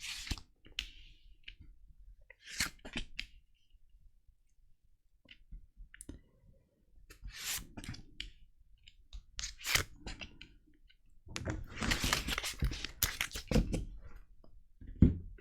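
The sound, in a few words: tarot cards being shuffled and drawn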